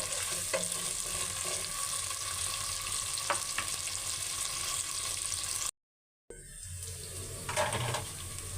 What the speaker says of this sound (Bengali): এবার পেঁয়াজ মরিচগুলো ভাজা হয়ে গেছে